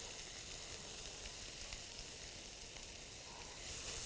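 Chopped onion sizzling and frying in a pan already holding a sausage mixture, a steady dense hiss close up with no talking.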